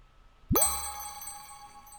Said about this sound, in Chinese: 这是捡到关键道具的音效。